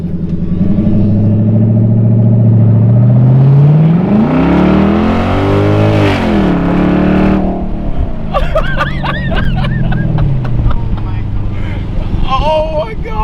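A straight-piped V8 Genesis sedan revs loudly up and down, engine note rising and falling close by, then settling into a rough idle with occasional clicks and faint background sounds.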